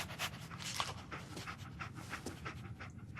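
Dogmeat, the dog in Fallout 4, panting in quick rhythmic breaths, soft and close, steady throughout with no talking.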